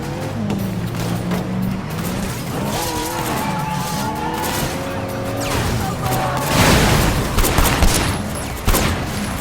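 In the video game Sleeping Dogs: Year of the Snake, a car engine drones and tires squeal while guns fire in quick bursts, loud and busy, with someone speaking French over the action.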